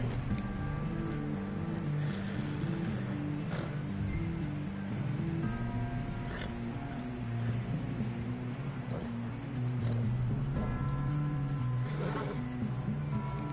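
Horse hooves clip-clop in the video game Red Dead Redemption II, a steady trotting rhythm blended with outdoor ambience and a low musical drone.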